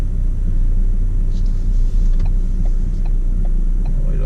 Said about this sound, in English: The engine sounded a little beefier